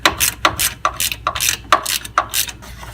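A ratchet works on the top bolt of a front engine mount on a 2003 Acura MDX, giving close, crisp bursts of clicking in short strokes, about eight quick pulls with brief pauses between them and no talking.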